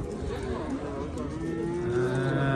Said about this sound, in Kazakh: Мына торпоктор сурайын, чыгып атат.